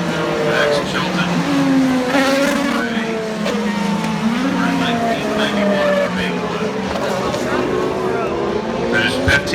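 IndyCar race cars roar around the Indianapolis Motor Speedway during the 2017 Indy 500, their high-revving engines whining and shifting pitch as they pass, loud and continuous under race commentary.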